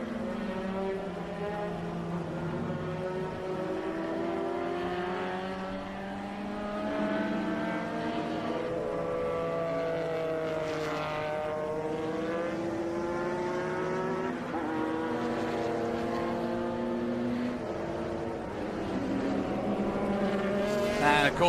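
A 2000 Porsche race car circles the Laguna Seca track, its engine loud and continuous, pitch climbing and dropping through gear changes as the car slides slightly out of shape, with faint commentary underneath.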